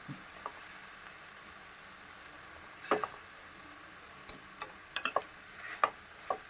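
Dried shrimp fry in oil for a raw banana curry, making a faint low sizzle broken by scattered sharp pops and spoon-stirring clicks, with no voice.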